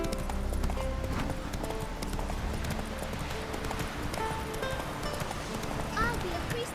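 Horse hooves clip-clop at a steady gallop in The Witcher 3: Wild Hunt, a continuous rhythmic beat under layered game music and ambience, with brief talk over it.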